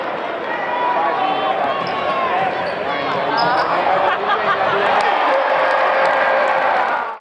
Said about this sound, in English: The crowd was loud at the Wolstein Center